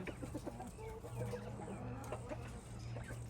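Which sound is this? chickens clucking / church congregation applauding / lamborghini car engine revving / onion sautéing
chickens clucking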